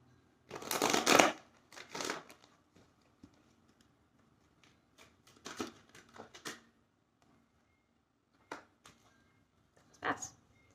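Oracle of angels cards being shuffled by hand in several short, crisp riffling bursts spaced across a quiet room, close and fairly soft.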